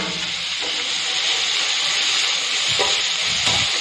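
Curry leaves, tomato, tamarind and salt sautéing in a pan for chutney, a continuous bright sizzle and hiss with a few scraping stirs near the end, no talking.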